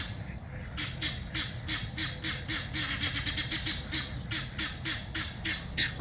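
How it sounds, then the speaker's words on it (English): Guinea fowl calling in a rapid series of repeated harsh, rhythmic cries across a farmyard, steady and fairly near, with faint background noise and no clear talk. "Oh, those guineas."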